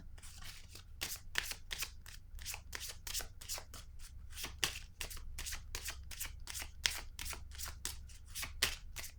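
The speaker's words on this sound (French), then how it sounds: "Je vais piger une carte ici pour cette zone." Tarot cards being shuffled and drawn by hand: a steady run of quick, crisp riffling bursts, close and fairly loud, with no talking.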